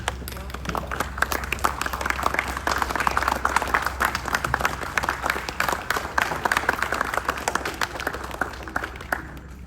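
Sustained round of applause from a standing audience at an award gala, steady dense clapping for nearly ten seconds over a low hum, with some voices mixed in.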